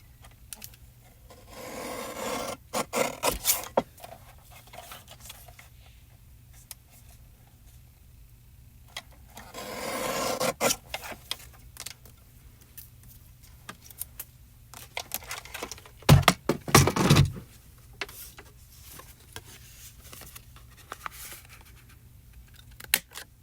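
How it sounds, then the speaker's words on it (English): Paper is cut and the corners are trimmed with a corner rounder punch. The sounds are close, intermittent rubs and snips in short bursts, with a sharper cluster of clicks near the middle and quiet gaps between. "And I'm going to use the corner rounder and round those corners."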